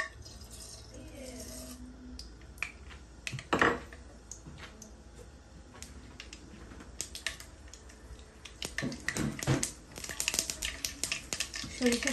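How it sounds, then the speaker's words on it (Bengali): Dry mustard seeds splutter in hot oil for tempering, giving quiet, scattered crackles and sharp pops that grow busier and louder toward the end. "আমি শুকনা সরিষা দিয়ে ফোড়ন দিব।"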